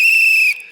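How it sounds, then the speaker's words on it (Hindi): A short, shrill whistle blast, steady and piercing, is blown on a comedy stage show, cutting off abruptly before a brief vocal sound at the end. "मेरी सीटी के अंदर की काली मिर्च फंस चुकी है।"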